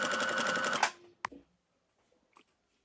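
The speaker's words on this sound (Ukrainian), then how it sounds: "ми вибираємо звичайний зігзаг і прокладаємо там строчку поверх, закриваючи ці всі шви" A sewing machine stitches a zigzag line over garment seams in a rapid, steady mechanical chatter. It stops abruptly, then one sharp click follows and a few faint handling noises.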